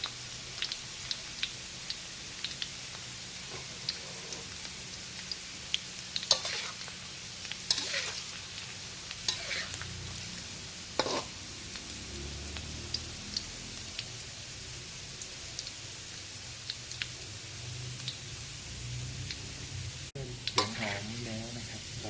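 Garlic simmers and fries in a pan over medium heat, a continuous soft bubbling sizzle with intermittent sharp pops and spatula clinks throughout.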